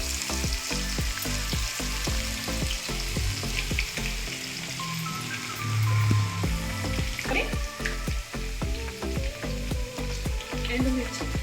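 Pounded onions frying in oil for amla pickle crackle and sizzle up close, broken by repeated knocks and scrapes of stirring in the pan, with no talk.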